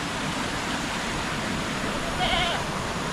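A single faint bleat from a goat, barely rising above the steady roar of heavy rain.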